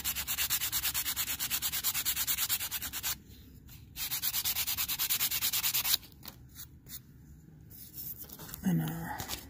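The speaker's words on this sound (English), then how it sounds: "Maybe I'll sand this a little bit more." Hand sanding a carved wooden Scandinavian butter knife: close, rhythmic rasping strokes in steady back-and-forth runs with brief pauses, ending in a soft murmur of speech.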